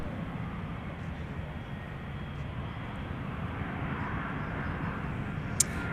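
An Airbus A350 jet arriving from Seoul as it touches down at Minneapolis airport, a steady, broad distant roar holding evenly throughout with a brief sharp tick near the end.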